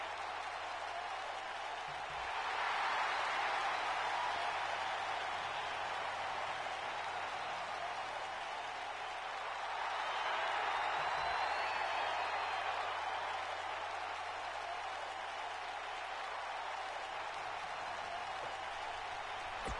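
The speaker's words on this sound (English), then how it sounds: "this Philadelphia crowd is beyond boisterous tonight" A virtual Philadelphia arena crowd in the WWE 2K19 wrestling game, a broad steady roar of cheering and applause that swells twice, loud and continuous with no talk.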